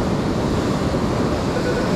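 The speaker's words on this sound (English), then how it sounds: "Gotta keep an eye on those waves." Ocean surf rolls in at a beach during a negative low tide, a steady broad roar with wind rumbling over the microphone, continuous and fairly loud with no talking.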